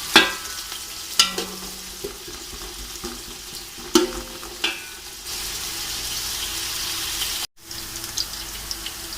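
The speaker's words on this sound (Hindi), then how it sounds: "ये प्याज़ों को काला नहीं करना, बस हल्का हल्का इनको फ्राई करना है।" Onions frying gently in about a cup of oil, a continuous close sizzle with intermittent clacks and scrapes of a spoon stirring them, and a brief cut near the end.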